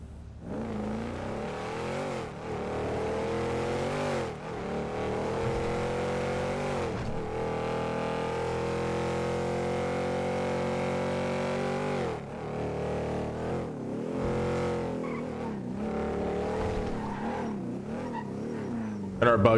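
A car in a video game drives hard with a sustained, wavering engine drone that rises and falls as it revs, ending on a brief louder burst.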